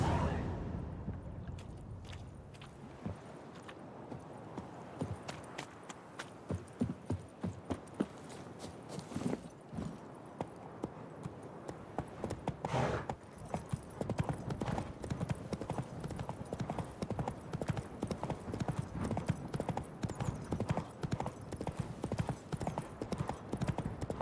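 Roach, a horse in The Witcher 3 video game, sets off in a steady, rhythmic clip-clop of hooves that grows denser and faster as it picks up speed. Game ambience and rustling run underneath throughout.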